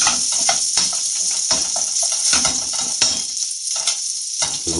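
Canned stew browns in a pan with a dense, continuous close sizzle and crackle, punctuated by frequent scraping stirs and light clinks of utensil against metal, and no talking.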